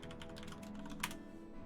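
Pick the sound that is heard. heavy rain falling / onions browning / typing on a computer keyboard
typing on a computer keyboard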